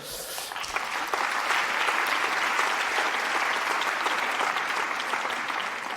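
Sustained applause from a conference audience honouring health professionals (general practitioners, nurses, physiotherapists, midwives) at a plenary session, rising within the first second and holding as a dense, steady wash of clapping to the end.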